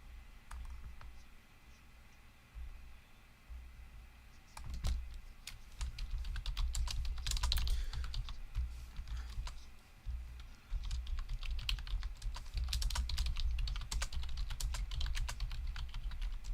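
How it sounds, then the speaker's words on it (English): Someone types on a computer keyboard in quick, uneven runs of clicking keystrokes, with short pauses between bursts. The sound is close and steady, and no one talks over it. "You may hear some clicking. That's me typing"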